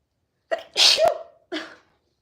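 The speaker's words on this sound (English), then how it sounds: "I'm gonna sneeze." A single close, sharp sneeze, preceded by a short intake of breath and followed by a brief exhale or sniff, in an otherwise quiet room.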